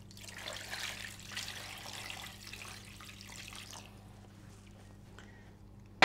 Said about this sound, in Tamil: தண்ணி நிறைய போட்டு நல்லா வேக வச்சுக்க போகிறேன்.